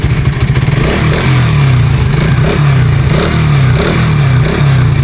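A Suzuki Raider 150 Fi motorcycle engine idles at about 1,500 RPM after an idle adjustment, loud and close, a steady even putter with slight rhythmic pulsing and no talk.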